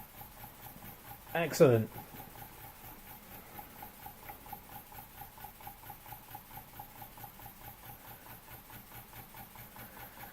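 A homemade Weeden 420 model steam engine with a hand-built crank and flywheel runs under steam pressure, giving a steady, rapid, even chuff of puffs throughout, with a brief burst of voice and hiss near the start.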